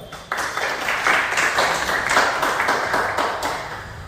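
Audience applause at a candle-lighting tribute to martyrs, a short burst of steady clapping from a gathered crowd that starts abruptly and holds at even loudness.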